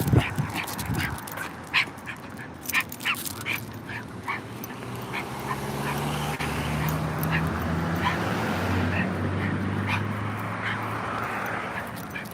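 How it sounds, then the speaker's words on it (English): A dog barks repeatedly outdoors as a van passes, sharp yips and barks in uneven bursts over a low engine rumble, close and fairly loud, with no talk. "Now she barking at them."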